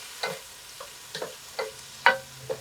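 Tofu stirred in a hot pan with the heat just turned off, giving a handful of separate scraping, clattering stir strokes over a faint background sizzle, with no talking.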